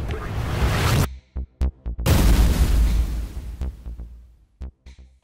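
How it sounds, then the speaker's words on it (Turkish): Popcorn kernels burst as steam pressure shatters their hulls, heard as loud, sharp booming pops in separate bursts with short silent gaps, a long rumbling burst in the middle and a few quick pops at the end. "Basınç artıyor ve dış kabuk parçalanarak mısırımız patlıyor."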